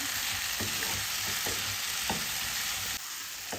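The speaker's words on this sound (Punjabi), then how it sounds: "ਹੁਣ ਇਸ ਵਿੱਚ ਆਪਾਂ ਦੋ ਟਮਾਟਰ ਦੋ ਹਰੀ ਮਿਰਚ ਪਾ ਦੇਵਾਂਗੇ ਇਹਨੂੰ ਚੰਗੀ ਤਰ੍ਹਾਂ ਮਿਕਸ ਕਰਕੇ ਆਪਾਂ ਟਮਾਟਰ ਦੇ ਸੌਫਟ ਹੋਣ ਤੱਕ ਭੁੰਨ ਲਵਾਂਗੇ" Tomatoes and green chillies fry in a pan with a steady bright sizzle, broken by soft scraping stirs every half second or so, heard close with no talking.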